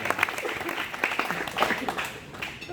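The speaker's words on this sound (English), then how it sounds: "if we can give a round of applause to the parents of Mikey and Meredith, Peggy and John" A wedding reception crowd applauds the parents, steady clapping filling the room for the whole stretch, with some voices and cheers mixed in.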